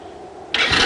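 A Pantera quad four-wheeler's engine catches abruptly after a quiet moment, bursting into a loud, close, rough roar.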